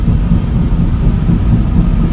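Heavy rain while driving, a loud, dense, steady roar of rain and road noise filling the cabin without pause, no voices.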